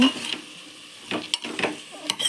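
Chopped tomatoes sauté in a pan for a rice dish, with a soft sizzle and intermittent scraping bursts from stirring, close and moderately loud.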